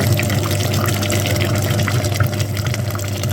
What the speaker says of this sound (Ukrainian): Підходить до кінця наша промивка радіатора пічки